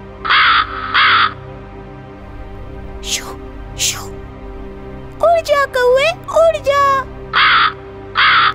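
Crows cawing in a short bursts pattern, harsh loud calls in pairs at the start and end, with a voice speaking in between over a faint background hum.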